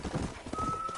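Quick hoofbeats of a horse in the video game Red Dead clip-clop in a steady rhythm, with a faint whinny and a thin electronic tone in the background.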